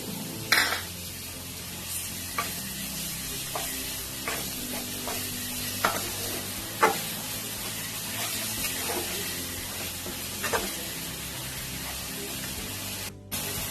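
Ginger, garlic and green chilli paste frying in a pan, with a continuous close sizzle and repeated stirring scrapes at irregular intervals, loud and without speech.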